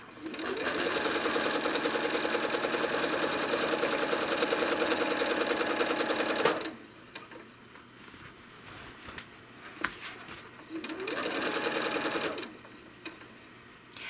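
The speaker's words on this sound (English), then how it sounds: "And I'm now going to stitch down to that center line again and into the next." A sewing machine machine-quilts stitch lines on a quilt, running in a fast, even mechanical rattle for several seconds, pausing with soft handling noises, then starting up again briefly.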